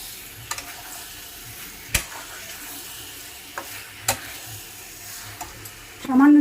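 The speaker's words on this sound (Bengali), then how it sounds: "এই সময় দিয়ে দেব আমি ভেজে রাখা আলু আর ভেজে রাখা পটল।" Fried potatoes and pointed gourd are tossed into sizzling spiced oil. A steady fry hiss runs under several sharp clacks of a spatula against the pan, ending in a louder burst of sizzle.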